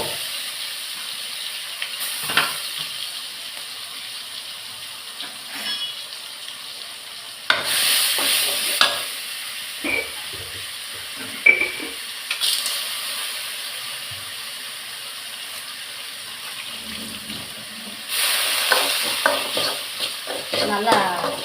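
Ground paste sautéing in oil in a pan for a tamarind rasam or kuzhambu, a constant frying hiss with bursts of louder sizzling and spoon scrapes each time it is stirred, nearby and without speech.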